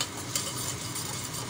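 Broken spaghetti fries in oil in a pot while being stirred, giving a brief, steady sizzle with a faint scrape of the spoon.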